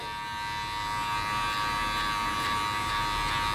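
Steady electric buzzing of hair clippers running close by during a skin fade haircut, with a faint scratchy texture as they cut, no voices.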